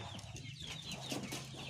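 Village chickens with a KUB breed rooster cluck softly and steadily at a home-scale free-range poultry setup, a low continuous flock murmur with faint bird calls throughout.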